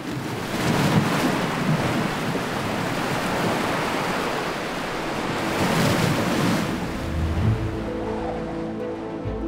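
Waves on open water driven by strong falling winds, a loud continuous roar of surf with surging crashes and rushing wind, rising and falling in broad swells, no voices.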